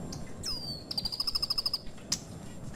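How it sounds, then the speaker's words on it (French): A bird gives a rising whistle, then a rapid series of bright repeated chirps, followed by one more sharp call over a faint hum. "Le temps de croiser deux oiseaux"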